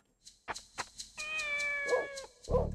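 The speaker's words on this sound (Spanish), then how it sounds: "La otra gata." A cat meows in the Dreamcast game Shenmue. It starts with a few short, soft chirps and then draws out a long, clear tonal meow, followed by two more brief mews, heard alone and fairly close.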